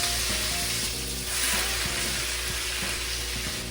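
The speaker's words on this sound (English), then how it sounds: "Now we gotta brown this beef." Lean 90-10 ground beef fries in an oiled pan, a loud, constant, close sizzle with crackling and a faint rhythmic clicking underneath, without any talking.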